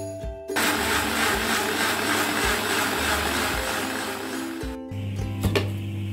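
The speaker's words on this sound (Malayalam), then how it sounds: "അതിനുശേഷം നമുക്ക് ഇതൊരു മിക്സിയുടെ ചാറിലേക്ക് ഇട്ടിട്ട് നല്ലവണ്ണം അടിക്കുക" A mixer grinder whirs loudly and steadily as it purees cooked radish, running for several seconds before cutting out briefly and starting up again.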